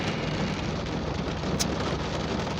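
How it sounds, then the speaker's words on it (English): Steady rain falling outdoors, a dense, even hiss that holds without a break for a few seconds, with no voices over it. "Lovely rain. Wish I was indoors for this."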